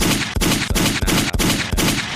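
A rapid burst of loud gunshots, about six sharp reports fired in quick succession with barely a pause between them.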